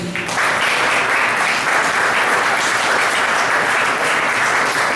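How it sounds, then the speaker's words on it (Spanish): Steady, full audience applause fills the room at a motivational talk, dense and even from start to finish with no voices on top. "Un aplauso, Angelita."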